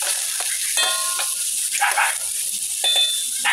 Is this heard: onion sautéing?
yes